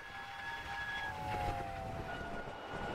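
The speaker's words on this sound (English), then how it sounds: "Do like a cool shot of Mallard just like absolutely flying past" The Mallard steam locomotive in a Train Simulator game rushes past at speed, a steady loud rumble of carriages with high whistle-like tones sliding down as it goes by, no voices.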